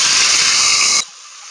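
Spice paste hitting hot oil in a cooking pot for a tilapia and new potato curry, a loud, bright sizzle that hisses steadily for about a second, then drops abruptly to a faint lingering fry.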